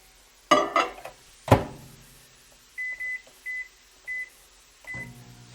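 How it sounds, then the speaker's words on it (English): A microwave oven in a home kitchen gives four short evenly spaced electronic beeps, preceded by a couple of sharp clunks of handling and door noise, then a final softer tone. "I know some of you might scoff at using a microwave, but it's a lot quicker and more efficient"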